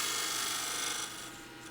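A spindle gouge cuts a wood spindle on a lathe while turning a gavel, giving a close, steady rasping hiss that tapers off toward the end.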